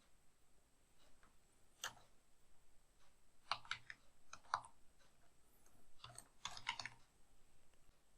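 Computer keyboard typing and mouse clicking while working in Excel come through as sparse, close, quiet taps and clicks in small clusters against a faint background hum.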